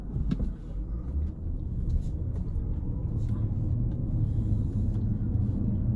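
Mercedes CL500 V8 on the road, heard from inside the cabin as a steady low rumble of engine and tyres that holds evenly throughout with no talking.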